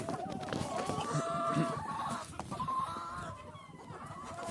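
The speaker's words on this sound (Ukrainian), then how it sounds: "Кури б'ються там" Chickens fighting in a busy coop, clucking and squawking with agitated flapping and scuffling, voices faintly mixed in the background.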